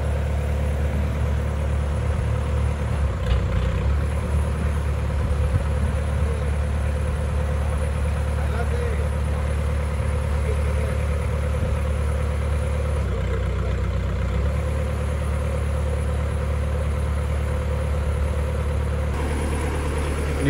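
A vehicle engine set up to tow a motorhome idles steadily close by, a deep continuous low rumble with brief shifts in tone, no talking.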